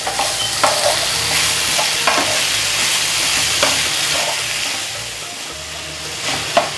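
Grated potato sautéed with chillies in a pan for a fasting meal, a steady sizzle punctuated by several sharp spatula scrapes and knocks at irregular intervals, close and alone.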